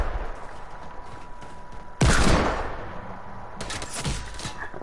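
Gunfire in a video game, a sharp loud crack of a sniper rifle shot with a decaying tail, then a second burst of shots after a brief lull over low background noise.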